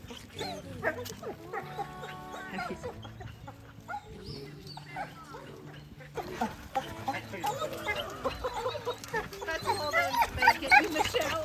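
Several dogs at a doggy daycare bark, yip and whimper in a busy, overlapping chorus that grows louder toward the end, with people talking throughout.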